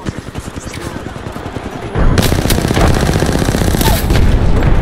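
Rapid automatic gunfire in the Apex Legends battle-royale game, loud dense bursts that intensify midway and keep hammering without pause, with a player speaking over the shooting.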